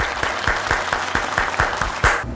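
A church audience claps to welcome Bishop Jonathan Rehmat, producing steady, fairly loud applause with a rapid rhythmic pulse of hand claps and one louder burst near the end.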